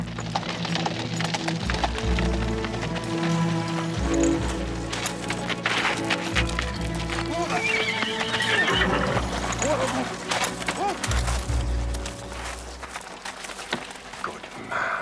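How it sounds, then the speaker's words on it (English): A horse runs with clip-clop hoofbeats and lets out neighs and whinnies, loud and close over a busy background with music-like tones, in an outdoor period drama scene; no one speaks. "Stop that horse."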